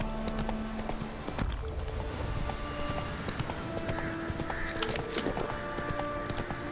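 A horse's hooves clip-clop steadily in The Witcher 3 video game, with in-game background sounds around the rhythmic hoofbeats.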